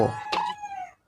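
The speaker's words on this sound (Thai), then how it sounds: "เสียงไก่ขันนะครับ" A rooster crows in the Plants vs Zombies 2 video game, a single loud, drawn-out cock-a-doodle-doo with a sharp rising call that holds and then trails off, heard alone with no talk over it.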